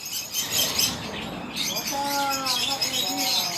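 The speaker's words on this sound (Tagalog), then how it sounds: "Ayan o, ibon na maliliit." Small birds in a garden aviary chirp and tweet in quick, bright calls, growing busier partway through, with people talking nearby.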